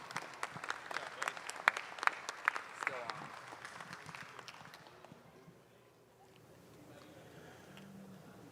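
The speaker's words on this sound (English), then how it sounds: "just give these kids one more round of applause" Audience applause at a 4-H/FFA youth dairy cattle supreme show at a state fair, a round of clapping with a few sharp nearby claps, fading after about five seconds into a quiet murmur of crowd and voices.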